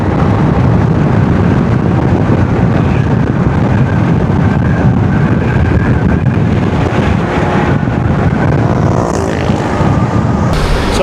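Strong wind buffets the microphone in a continuous loud low roar on a road stop in Catbalogan City, steady throughout with no voices.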